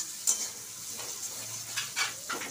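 Spices — ground coriander, cumin, turmeric and chili powder — stirred in a hot pan, with soft scraping strokes over a faint sizzle, a few louder stirs standing out near the end.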